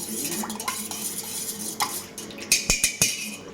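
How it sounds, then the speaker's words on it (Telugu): A spoon clinks and scrapes around a glass or jug as Rasana drink powder is mixed into liquid, with soft swirling at first and then a few sharp, close metallic taps near the end. "సో ఇప్పుడు పౌడర్ ఇంకా లిక్విడ్ వేసేసినాక ఒకసారి కలుపుకుందాం గైస్"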